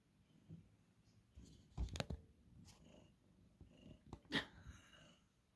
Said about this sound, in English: Can you hear Buster purring?